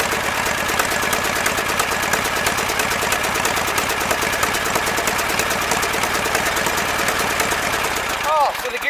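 A Briggs & Stratton small engine runs after starting, with a loud, fast, even chugging beat close by that cuts out near the end.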